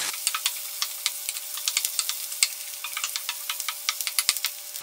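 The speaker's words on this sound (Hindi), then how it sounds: "बस प्याज को हल्का सा सॉफ्ट होने तक भूनना है।" Onions and seeded red chillies frying in oil in a pan, a steady crisp sizzle dotted with sharp ticking pops, close and without voices.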